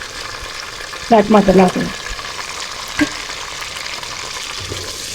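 Mutton frying with ginger and garlic in a pan for a home-style aloo gobi gosht curry gives a steady close sizzle throughout, with a voice speaking briefly over it near the start.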